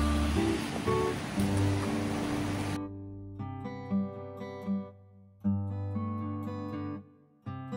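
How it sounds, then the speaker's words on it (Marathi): A forest stream near Badlapur rushes steadily as a close, broad wash of water for about three seconds before music takes over. "आता काय जबरदस्त ओढा आहे बघ आता पुढे"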